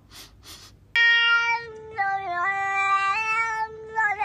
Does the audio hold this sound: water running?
no